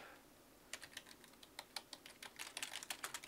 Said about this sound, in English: You guys can you can hear me typing, right?